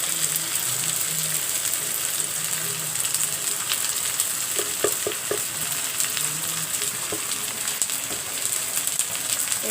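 Meat sizzling and frying steadily in hot oil with chili powder, turmeric and spices, a continuous close crackle with occasional stirring clicks and no talk.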